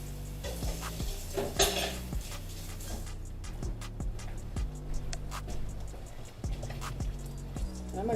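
A small wooden spoon stirs eggs in a hot pan, giving close, sharp clicks and taps against the pan in an irregular rhythm over a steady low hum, with a brief louder scrape early on and no talking.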